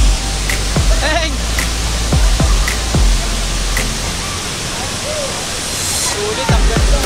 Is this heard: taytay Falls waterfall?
yes